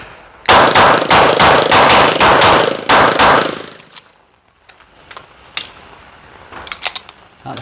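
Rapid pistol shots during a practical shooting stage: a quick string of about ten loud, evenly spaced reports close by, followed by quieter clinks and scattered faint clicks.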